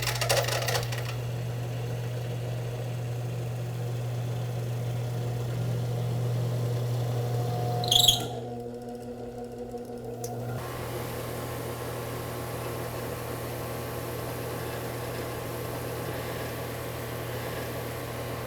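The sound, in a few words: car alternator being switched on and running during regulator test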